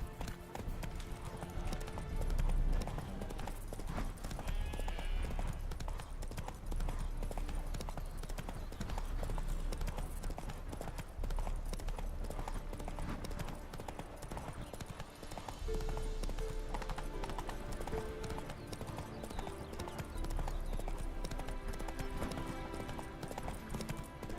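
Horse hooves gallop in steady rapid clip-clop throughout, from The Witcher 3, with a low rumbling background and occasional faint game speech beneath.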